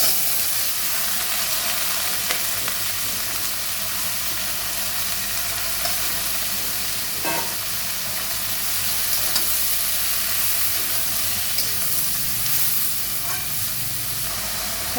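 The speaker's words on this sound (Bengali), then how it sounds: "শাপলাগুলো একটু ভাজা ভাজা হয়ে গেছে" Water lily stems sizzle and fry steadily in a pan with hilsa fish head and green chillies, a continuous close hiss with faint stirring clicks throughout.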